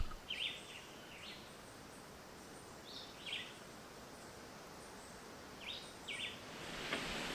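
Wild birds in a Jamaican bamboo area beside a road give a few short, high chirping calls in small clusters, faint and distant over a steady background hiss with quiet gaps between bursts.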